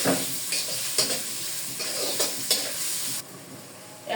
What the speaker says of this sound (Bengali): সুন্দর করে পেঁয়াজটাকে ভেজে নিব আগে ফার্স্টে